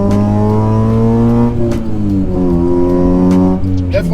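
A Honda with a 3-inch single TSX cat-back exhaust pulls hard through the gears, its engine droning up in pitch, dropping at a shift, then climbing again as VTEC engages; loud and close from inside the car, with a voice over it.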